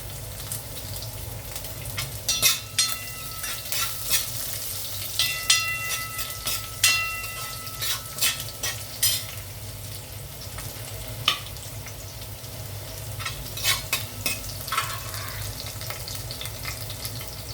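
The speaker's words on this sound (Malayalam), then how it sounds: "ചെറുതായിട്ട് ഇളക്കിയിട്ട് ചെറിയ ഉള്ളി അരിഞ്ഞതിട്ട് കൊടുക്കാം." Chopped shallots and garlic frying in oil, a continuous close sizzle with repeated sharp scrapes and taps of a spoon stirring in the pan, no talking.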